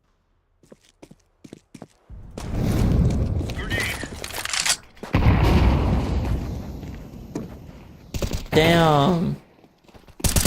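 Bursts of gunfire in a video game shooter erupt in dense rapid volleys across the middle of the clip, loud and close, with a voice speaking over parts of it.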